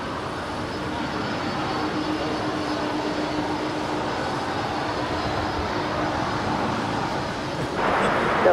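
Jet airliner engine roars steadily at Los Angeles LAX airport near the runways, a continuous loud broadband rush with a faint tonal whine, swelling louder near the end, no talking.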